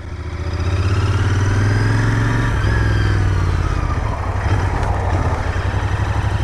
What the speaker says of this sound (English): let's get riding and have some fun on this thing and talk